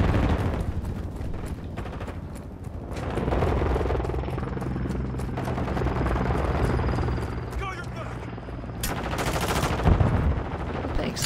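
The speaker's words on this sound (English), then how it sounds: "Chopper in. Just chopper." Modern Warfare 2 match with a helicopter's thudding drone under bursts of rapid automatic gunfire and scattered shots, dense and loud throughout, with game voice callouts and a player talking over the action.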